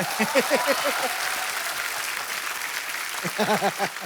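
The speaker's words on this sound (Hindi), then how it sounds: "तो बड़ा जोरदार तालियां।" A studio audience on a TV comedy talk show claps steadily in a continuous wash of applause, with a pitched voice briefly calling out at the start and again near the end.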